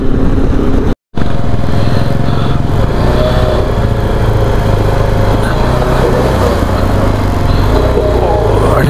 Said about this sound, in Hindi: भड़क रही है बाइक।